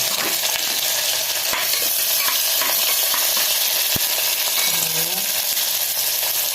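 Sliced onion sizzles loudly and steadily in hot coconut oil with fenugreek seeds for a Kerala-style kadala curry, with occasional stirring clinks and no talking.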